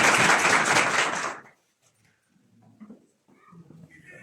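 An audience at a church sermon breaks into loud, dense applause that lasts about a second and a half, then stops abruptly, leaving near silence with faint murmurs.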